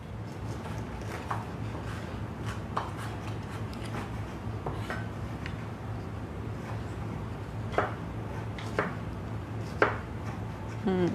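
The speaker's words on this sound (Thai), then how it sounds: "หั่นโปรเฟชชั่นอลมาก" Vegetables such as bell peppers, cherry tomatoes and mushrooms are sliced with a knife on a cutting board for a vegan frittata, with steady light chopping taps and a few sharper knocks over a low kitchen hum.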